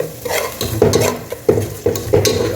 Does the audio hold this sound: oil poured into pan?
yes